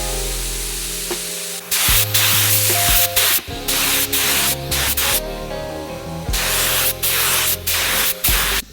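Aerosol spray paint laying a base coat onto Brembo big brake kit calipers on an Evo 8, a series of loud close hissing bursts in steady rhythm, each lasting under a second, separated by short gaps.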